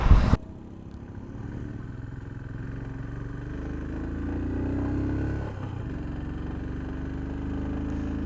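Motorcycle riding on the road to Hanle in Ladakh, a steady mid-pitched engine drone that holds constant after a brief opening bump, with a slight swell midway.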